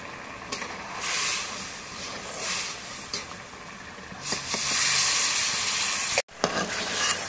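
Katla fish sautéing in a pan with a steady close sizzle and frying hiss, broken by a few stirring scrapes and clatters, and a brief gap near the end.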